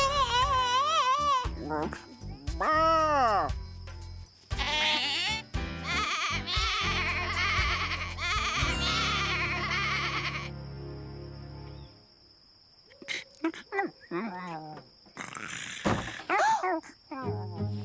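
Voices bleat like sheep in a Strawberry Shortcake cartoon, imitating the animals in wavering, repeated cries, with bright background music and brief spoken lines.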